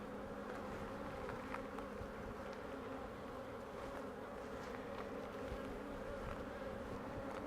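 Honey bees swarm around an open beehive during an inspection, a dense continuous buzzing hum with individual bees whizzing past the microphone, close and steady throughout with no talk.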